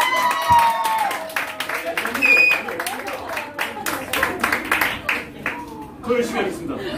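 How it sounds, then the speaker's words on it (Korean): An audience claps at a live jazz club during a blues night, with scattered and uneven applause mixed with voices and cheering that swells and fades over several seconds. "다시 한 번! 박수!"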